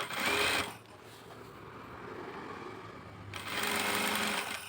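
A sewing machine stitching a blouse lining runs in two short bursts of rapid mechanical whirring, with a quieter pause between them, close and clear with no talking.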